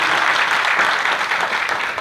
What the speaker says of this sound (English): can we clap with huge round of applause?